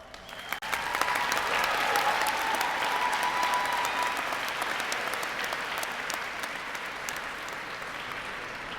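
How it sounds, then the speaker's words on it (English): Sustained applause from a commencement audience at the SUNY FMCC graduation ceremony, dense clapping rising quickly and holding steady across the hall with a few faint crowd sounds mixed in. "let us give all of them a well-deserved round of applause"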